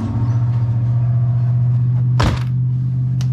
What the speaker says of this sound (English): this whole door trim should just pop right out